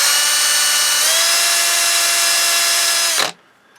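A power tool polishes a knob from a Sony STR-230 receiver, whining at a loud, steady high pitch before it stops abruptly near the end and leaves a quiet background.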